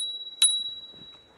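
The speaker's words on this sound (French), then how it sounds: "Une petite sonnette." A small bell on an electric mountain bike gives a single bright ding that rings on briefly, followed by a quiet rattle and clicks.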